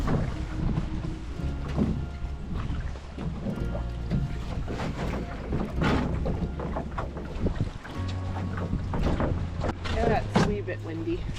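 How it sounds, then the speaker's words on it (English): Wind blows steadily across open water on a solo backcountry canoe trip, a continuous rushing roar with gusts buffeting the microphone, low hull and water sounds beneath. "Yeah, it's a wee bit windy."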